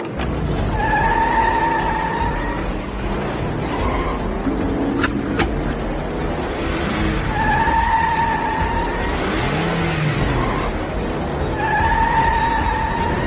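Racing cars skid and squeal through traffic while overtaking, the engines holding a steady loud roar with repeated tyre squeals rising over it, close and continuous for the whole stretch.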